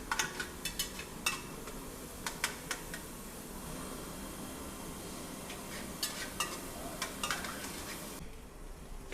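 Onions frying in oil in a cooking pot for a Saudi kabsa-style pressure-cooked goat, camel and chicken dish, a steady sizzle with sharp clinks of a stirring utensil scattered throughout, no talking.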